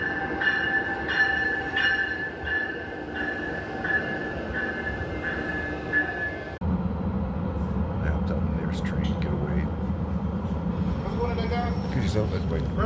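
A train rumbles along with squealing wheels and tonal screeches, then shifts to a deeper, steadier rolling noise; a voice speaks faintly underneath.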